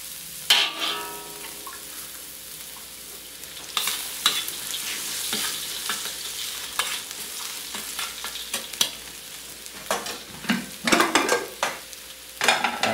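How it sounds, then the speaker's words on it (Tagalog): Chopped garlic frying in oil in a pan, sizzling steadily with intermittent scrapes and stirring clatter, close and moderately loud, with no talk. "I-brown muna natin ito bago natin lagyan ng kanin."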